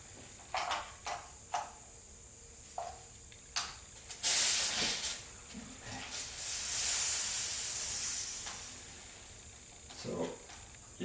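Residual fuel pressure hisses out of a 1976 Corvette restomod fuel line into a wrapped paper towel, heard as short faint spurts followed by a longer steady hiss and a few further brief bursts.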